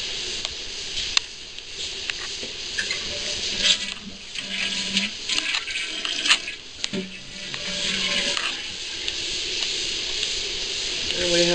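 A kitchen tap running during a home inspection in a house in Richardson, Texas, giving steady splashing water with clatter and patter into a sink, while someone talks at times over it.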